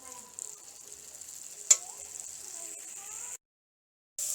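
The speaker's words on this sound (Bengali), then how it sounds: "এবার একটু নেড়ে এই জলটাকে আমি মেরে নেব।" Gima greens sizzle in a pan as they are stirred to cook off their water, a steady bright hiss with a sharp utensil knock partway, then a brief silence before the frying resumes.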